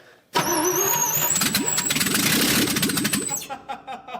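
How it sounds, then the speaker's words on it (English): A 1968 International truck engine cranks briefly then catches and runs, roaring loud and close with uneven firing as a cylinder struggles, a high whine riding over it before it cuts back near the end. "Ian, do you want to go crank it over?"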